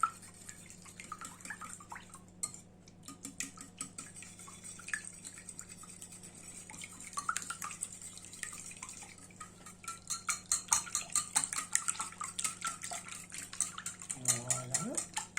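A whisk beating a mixture in a bowl, rapid rhythmic clinking and tapping that is faint at first and grows busier and louder, with a hum in the background and a short burst of a man's speech near the end.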